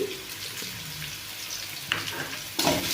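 Chicken pieces sprinkled with salt fry in a pan until browned, giving off a steady close hissing sizzle broken by a few louder spitting crackles.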